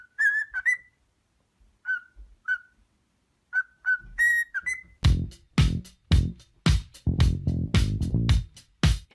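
Cockatiel singing: short whistled chirps and phrases come in spaced bursts, then give way to a dense, louder run of rhythmic broadband music-like pulses, with no talk.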